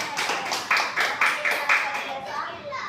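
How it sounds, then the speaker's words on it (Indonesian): Audience members clap in a loose rhythm of several distinct bursts, moderately close, fading out toward the end with faint voices in the background. "Bolehlah kita kasih tepuk tangan."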